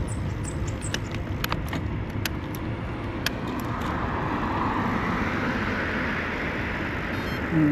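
A car passes close by a cyclist on the St. Augustine to Palatka rail trail, beneath steady wind and rolling road noise, its whoosh swelling during the second half.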